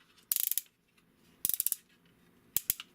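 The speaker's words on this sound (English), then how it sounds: "You got ratchet up and down." A ratchet joint on a Fanshobby Feilong Transformers figure clicks in three quick bursts of several sharp, close plastic clicks each, separated by short pauses.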